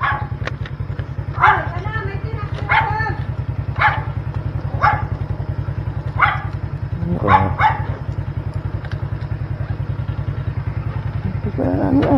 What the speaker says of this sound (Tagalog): Ang daming aso, eh.